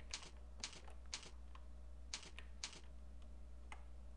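Keys clatter on a computer keyboard during programming work, in short irregular clusters of close, crisp taps separated by pauses, over a steady low room hum.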